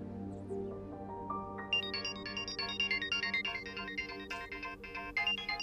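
A phone ringtone plays a bright repeating melodic pattern, starting softly and growing louder after the first two seconds, with no talking over it.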